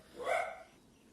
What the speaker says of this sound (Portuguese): Minha cachorrinha agora que parou de latir.